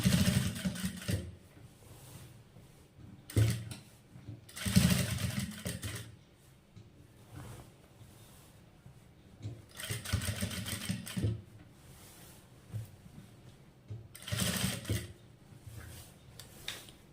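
A sewing machine stitches a nightie in several separate bursts of rapid mechanical whirring, with quiet pauses in between, close and fairly loud.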